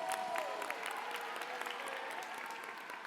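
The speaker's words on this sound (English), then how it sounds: "Let's give Geronimo a round of applause." A crowd at a high school graduation ceremony applauds steadily, a dense wash of clapping that carries on for a few seconds and fades only slightly.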